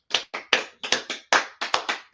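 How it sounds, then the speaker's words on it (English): A group claps hands for participants in a class, a burst of about ten sharp, fairly close claps in an uneven rhythm, with no talking over it. "let's clap it up for everybody in there"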